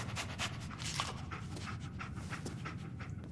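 A dog in a video game pants quickly and rhythmically at close range, with short breathy puffs and faint snuffling, and no other sound competing.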